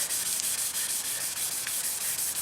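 A car headlight is sanded by hand in straight back-and-forth strokes, a steady rhythmic gritty rasp repeating several times per second, close and consistent with no talking.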